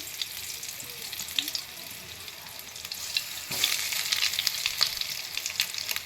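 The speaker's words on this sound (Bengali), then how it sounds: "ঢাকা চাপা দিয়ে দিলাম, চাপা দিয়ে ভাজছি" Thick-cut eggplant rings fry in oil in a lidded pan, producing a continuous close hiss and crackle that grows slightly louder partway through, with faint clatter and no speech.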